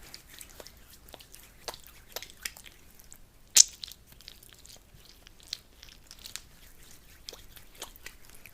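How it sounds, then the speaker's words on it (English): Massage oil is poured and rubbed between the hands, giving faint, close, wet squishing and slippery rubs, with one sharper click partway through. "So just pouring some oil out there, and I'm going to warm it up in my hands."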